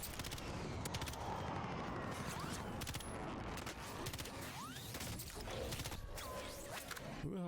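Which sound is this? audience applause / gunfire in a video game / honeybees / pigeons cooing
gunfire in a video game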